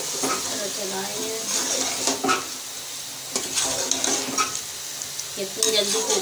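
Chickpea korma fries and sizzles in a pot while a spoon stirs it, giving irregular scraping strokes and clinks over a constant crackle, with a voice talking throughout.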